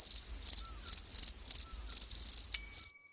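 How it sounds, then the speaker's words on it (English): Crickets chirp at night in rapid, loud, pulsing trills that repeat close by against otherwise silent surroundings, then stop abruptly. "everywhere is silent and you can literally hear the sound of crickets"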